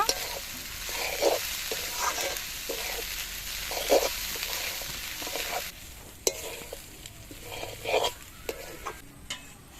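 Rice is sautéed in a pan for white pushpanna, with a soft steady sizzle broken by regular scraping stirs of a spoon every second or so, close by and without voices.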